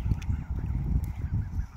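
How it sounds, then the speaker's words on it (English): Geese honk repeatedly at close range, a busy overlapping chorus of low, rough calls with steady background noise. "these little geese that are right here"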